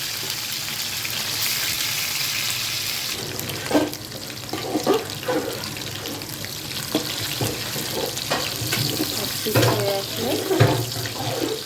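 Foli fish kofta fry in hot oil in a pan, a dense, continuous sizzling hiss close up, with occasional soft clicks and scrapes from turning the pieces.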